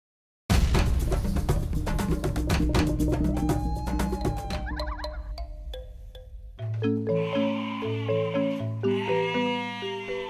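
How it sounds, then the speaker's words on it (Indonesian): Sheep and goats on a farm, bleating under a dense backdrop of music; the calls are partly masked, with tonal melody dominating the second half. "Domba dan kambing penghuni peternakan"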